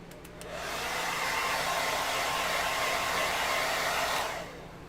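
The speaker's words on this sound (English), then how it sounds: "a hair dryer." A hair dryer, used while making a foam fire extinguisher prop, blows with a steady, loud, broadband whir for most of the clip, after a few brief clicks at the start, then cuts off near the end.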